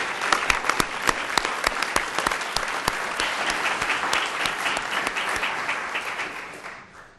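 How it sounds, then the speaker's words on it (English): A school board meeting audience applauds gold medal winners, brisk crisp claps up front within a full crowd of clapping that gradually thins and fades out. "Let's give them another round of applause,"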